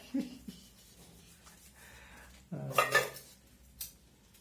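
Dishes clatter and scrape in a sink, quiet rubbing followed by a louder burst of clinking pots and cutlery.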